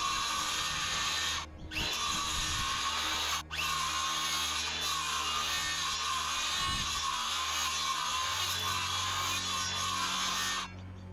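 A circular saw cutting into wooden posts for a garden project, a loud continuous high whine held for about ten seconds, broken by two brief drops, close and alone.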